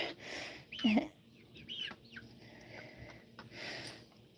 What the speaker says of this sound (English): the chickens are eating my bug carcasses